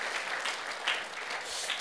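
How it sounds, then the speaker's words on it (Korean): Church congregation clapping for a long-serving flower-arranging deaconess, a soft, steady patter of applause that sounds distant throughout. "박수 한번 쳐주세요"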